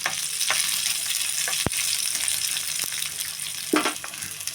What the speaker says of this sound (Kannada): ಸ್ವಲ್ಪ ಕರಿಬೇವು ಸೊಪ್ಪು, ಸ್ವಲ್ಪ ಈರುಳ್ಳಿ ಸ್ವಲ್ಪ ಫ್ರೈ ಆಗಲಿ